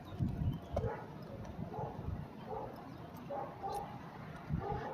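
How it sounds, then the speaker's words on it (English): Neighborhood dogs bark faintly in the distance in West Louisville during a police SWAT search warrant, as scattered muffled woofs over a low outdoor rumble with no one speaking nearby. "you can definitely hear some dogs barking from that direction"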